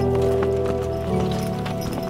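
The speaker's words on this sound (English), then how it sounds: "This winter, we also brought out horses to drag out individual trees" Working horses dragging individual trees out of winter woods during forestry, with steady clip-clop hoofbeats and movement under a background of tonal hum and sound, close and continuous.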